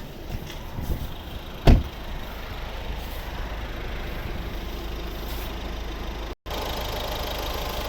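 The 1.6 Peugeot Citroën diesel in a second-generation Mazda 5 idles evenly and steadily up close, with one sharp knock early on and a brief cut near the end.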